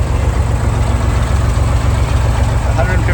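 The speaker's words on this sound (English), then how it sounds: "Flat pancake 6-cylinder engine. Sounds great." A 1964 Chevrolet Corvair Spyder convertible with a 150-horsepower turbocharged flat six idles in a steady, loud, low rumble that holds even throughout.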